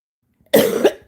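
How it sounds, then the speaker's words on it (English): A single person coughs sharply once, close to the microphone, in a short loud burst with a second smaller catch at the end, with no talking around it. "I muted y'all because I was coughing."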